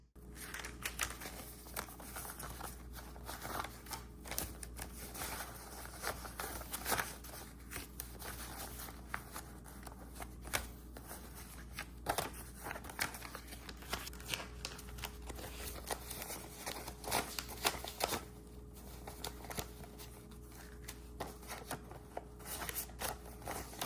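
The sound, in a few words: handling cash and stuffing budget envelopes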